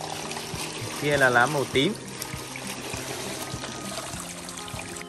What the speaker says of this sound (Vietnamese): Bây giờ mình sẽ tiến hành mình rửa cái lá đi nha các bạn nhé